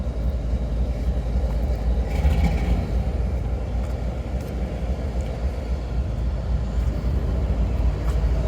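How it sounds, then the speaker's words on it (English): A train engine approaching in an urban area of Halifax's South End, a steady low rumble and droning hum with some higher mechanical whine, continuous and moderately close. "We want to see what this engine is coming up here to do."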